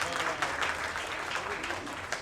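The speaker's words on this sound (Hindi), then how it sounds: "मैं आप सब लोगों के लिए अपने दोस्तों से कहता हूँ कि अपने आप के लिए तालियां बजाइए।" A crowd at an album launch event applauds itself, producing a continuous wash of clapping at moderate volume, steady throughout with faint voices mixed underneath.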